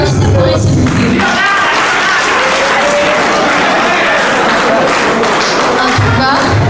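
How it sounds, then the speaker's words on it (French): A loud, sustained burst of audience applause for children performing at a poetry competition semi-final, dense clapping filling the hall from start to finish, with a voice briefly heard over it. "Applaudissez pour eux s'il vous plaît."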